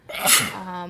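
A single sharp sneeze in a committee meeting, brief and close, followed by a fading tonal hum of the room.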